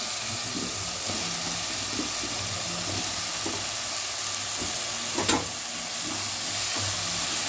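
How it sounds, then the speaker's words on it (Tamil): Potato, brinjal and green chillies sauté in a pan for a Tamil brinjal kuzhambu, a steady soft sizzle throughout with a brief clink partway through. "நல்லா வதங்கட்டும் காயெல்லாம் போட்டிருக்கேங்க"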